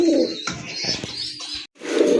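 Colourful pigeons at a pigeon sale cooing close by, a few soft throaty coos with brief chirps over a quiet background, broken by one short gap.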